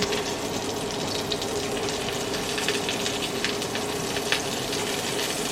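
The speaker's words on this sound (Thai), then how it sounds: "ผัดเห็ดให้พอสลบนะคะไม่ต้องสุกมากจนเกินไป" Mushrooms stir-fried with chili in a pan for a Thai vegetarian holy-basil dish, giving a steady close sizzle with scattered crackles and occasional scraping, heard alone without voices.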